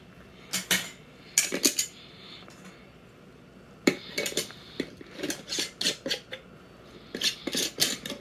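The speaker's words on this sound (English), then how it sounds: "Place your lids on there." Metal canning lids set onto the rims of glass jars packed with raw chicken, several bright clinks and rattles in short close bursts separated by quiet pauses, no talking.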